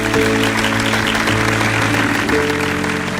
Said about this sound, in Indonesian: Tepuk tangan yuk buat ibu yang luar biasa.